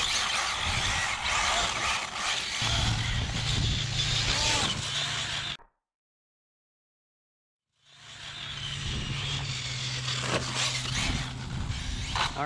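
A short-wheelbase Arrma Felony 6S RC car with a VW rat rod body drives past with a loud, whining electric motor and gritty tire scrub, then cuts to silence for about two seconds before the whining run resumes.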